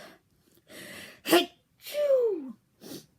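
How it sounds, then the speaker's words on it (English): A single person sneezes up close: a quick breathy build-up, a sharp explosive burst, then a trailing exhale and a small sniff. "I'm going to sneeze."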